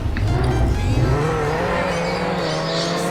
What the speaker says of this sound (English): So I'll just do a bit of drifting around the city.